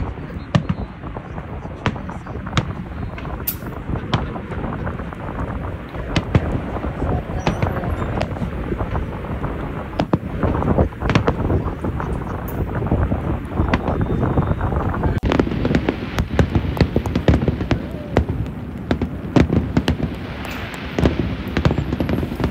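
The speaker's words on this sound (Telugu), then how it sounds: "నెక్స్ట్ క్రాకర్స్, ఫైర్ వర్క్స్ జరుగుతుంది" Fireworks burst at night over Niagara Falls, a series of distant, scattered bangs and crackles heard through steady, heavy wind rumble on the microphone, with occasional voices in the background.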